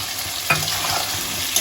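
Green peas tossed into a pan with chilli and tomato, cooked alongside fish head and cabbage, burst into a loud, close sizzle after a sharp clatter, then keep up a steady hiss with stirring.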